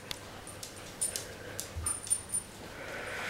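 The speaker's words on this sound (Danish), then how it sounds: "Det er en farlig hund." A dog whimpers in soft, short high cries with light panting between them, close to the listener in a quiet indoor setting, with no talk.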